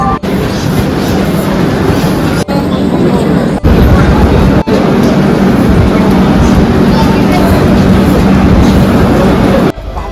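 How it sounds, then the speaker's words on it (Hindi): A train arrives at a railway station with a continuous loud rumble and rattle of passing cars, steady throughout with a few abrupt breaks, while people talk over it. "देखते देखते ट्रेन भी आ गई"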